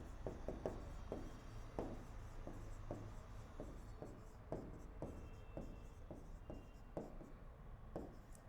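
Rapid writing strokes on a board during a strength-of-materials lecture on shear force and bending moment diagrams, in a steady irregular rhythm of short taps and scrapes close by, with no one speaking.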